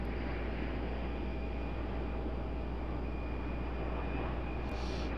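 An airliner arriving overhead at RDU airport gives a steady, loud roar of engines close above, constant throughout with no break, and no one talking over it.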